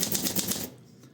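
Olympia SM8 manual typewriter from 1974 being typed on, a quick rhythmic run of sharp key strikes close by, then stopping.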